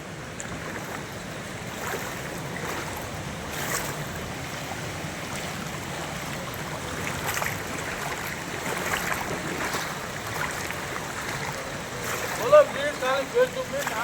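Steady rushing floodwater flowing across a road in a residential colony, a continuous broadband wash with a few louder splashes near the end.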